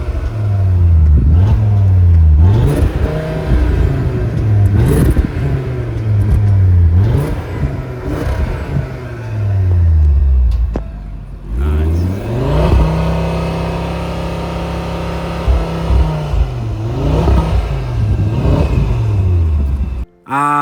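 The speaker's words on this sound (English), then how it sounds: "Let's listen to the exhaust." A 2023 Audi RS3's 2.5-liter five-cylinder exhaust revs hard again and again, loud and close, with rising and falling sweeps and a long sustained high-rev hold midway, then a final sharp blip.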